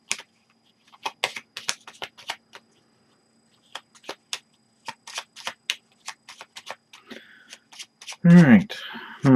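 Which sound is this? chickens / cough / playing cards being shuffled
playing cards being shuffled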